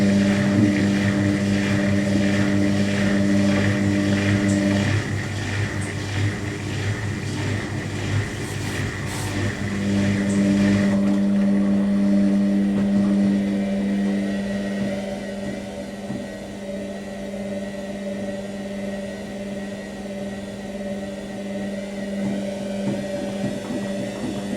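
An Indesit IWDC6125 washer dryer on a cottons program ramps into a high-speed distribute spin, a loud, steady, droning whir with a tonal motor hum. The pitch shifts partway through and the machine then settles into a slightly quieter, continuous whine.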